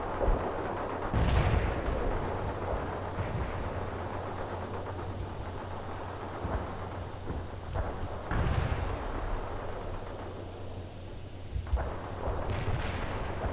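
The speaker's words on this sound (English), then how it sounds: "Medium artillery moving into position. Firing Willie P towards the area." Medium artillery firing white phosphorus rounds in the game World in Conflict: a few heavy booming reports spaced several seconds apart over a steady rumbling battlefield background.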